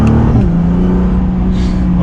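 2020 Nissan GTR 50th Anniversary accelerating, its engine note climbing in a strong steady roar that shifts pitch partway through, with some wind and road noise.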